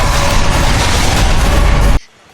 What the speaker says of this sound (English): KOing this Gossifleur with an explosion big enough to make Putin blush